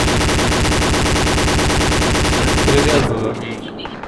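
Dense, continuous automatic gunfire and machine-gun bursts from the military video game ArmA 2 with the ACE mod, loud and rapid for three seconds before cutting off into quieter background noise.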